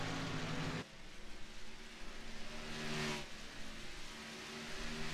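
A stock race car engine in the iRacing game over-revs after a misshift into first gear, a high whining roar that drops sharply, then builds again into a sustained wail.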